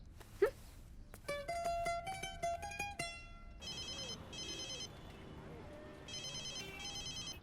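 A phone rings with a melodic electronic ringtone, then switches to a repeating chirpy trill pattern, moderately loud over faint background noise.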